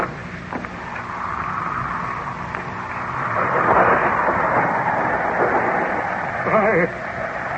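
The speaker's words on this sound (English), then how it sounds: "The storm is increasing again." A thunderstorm sound effect in a 1931 Frankenstein radio drama rumbles and swells steadily, growing louder midway, with crackling gusts and a rising noise near the end.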